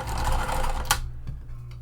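A sewing machine runs a short fast burst while backstitching a clear vinyl pool tote seam, then stops with a click, leaving a faint low hum.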